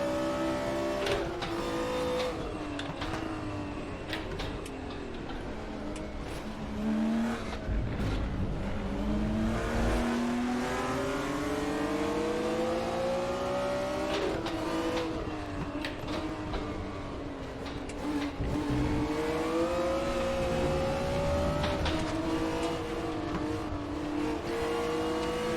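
BMW M1 Procar engine in RaceRoom, a loud, raspy race-car engine howling up and down through repeated gear changes, braking and acceleration, close and continuous for the whole stretch with no talk.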